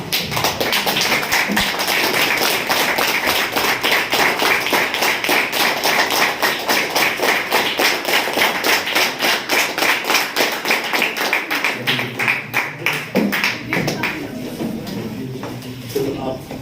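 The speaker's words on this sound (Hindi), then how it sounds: "मैडम अमृता नेगी जी, जोरदार तालियां।" A seminar audience at a business event in Solan, Himachal Pradesh, bursts into loud, dense applause that holds steady for most of the stretch before thinning out near the end.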